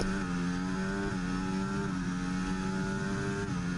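Formula 1 race car engine in the F1 24 racing game at the Portugal circuit, a steady high-pitched roar held under load down the main straight, loud and continuous with no talk.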